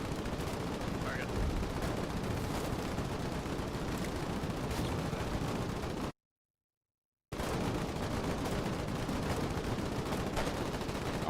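Constant battlefield gunfire and booming artillery in the war game Foxhole roll on without a break, dense and mid-distance, with a brief total dropout partway through.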